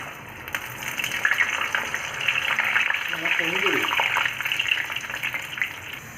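Chana dal frying in hot oil over a medium flame for a crunchy ghee-roasted snack, a steady close hiss and sizzle throughout, with a voice speaking briefly over it.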